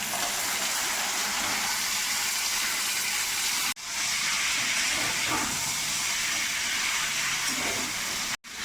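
Chopped raw jackfruit hits onions frying in a pan, a loud close hissing sizzle that runs steadily, briefly broken by two abrupt cuts, with no voices.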